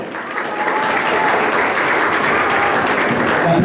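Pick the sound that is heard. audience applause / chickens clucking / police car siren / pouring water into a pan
audience applause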